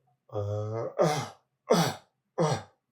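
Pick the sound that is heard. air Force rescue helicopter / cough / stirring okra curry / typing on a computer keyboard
cough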